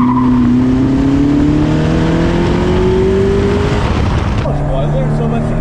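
Modified Alfa Romeo sports car with a hot motor, driven hard and sliding sideways, a loud steady engine drone with rising pitch and a shift near the end, recorded close and heavy.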